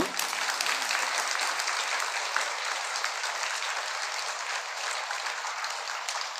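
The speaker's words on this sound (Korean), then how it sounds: "이럴 때는 우레와 같은 박수라도 쳐야 되는 거 아니에요?" An audience at a Buddhist dharma lecture applauds continuously, dense clapping holding steady throughout with no voices rising above it.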